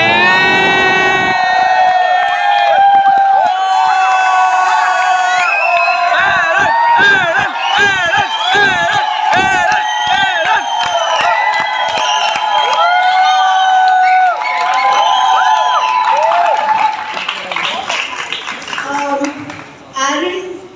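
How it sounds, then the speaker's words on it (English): A large audience cheering, whooping and clapping at the NMACC grand finale at Jio World Centre, a loud sustained roar of many voices with shrill shouts, fading toward the end. "Big applause"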